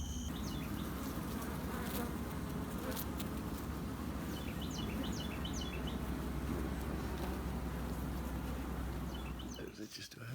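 Honeybees swarm around a hive during a tree trap-out, a dense steady buzz filling the air with individual bees zipping past close by, a few faint chirps above, no talking.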